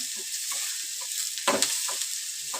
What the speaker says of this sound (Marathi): व्यवस्थित भाजून घ्यायचं कांदा